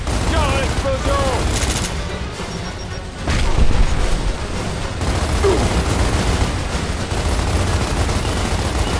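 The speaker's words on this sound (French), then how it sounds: "Tiens, explosion!" A loud explosion in Gears of War erupts amid sustained gunfire and battle chaos, with a heavy boom rising mid-clip over constant rattling shots and shouted voices.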